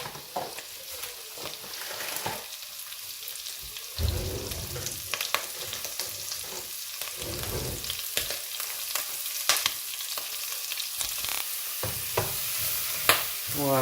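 Langoustine shells and heads frying over medium heat in a pan, a continuous soft sizzle with repeated scraping stirs and occasional clinks, close up and moderately quiet throughout.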